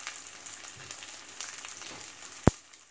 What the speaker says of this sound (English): I don't want to overcook it. I just want it seared.